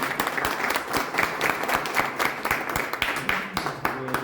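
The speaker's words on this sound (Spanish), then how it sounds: "Un aplauso." An audience of clients applauds at the close of a hydraulics talk, a steady, moderately loud run of many hands with distinct individual claps, and a voice briefly heard near the end.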